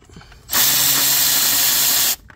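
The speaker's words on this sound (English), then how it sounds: "Next is going to be these Torx screws on the passenger side." A power drill whines loud and steady for about a second and a half, close up, backing out Torx screws on the passenger side of a 2006 Ford Ranger 4.0 engine.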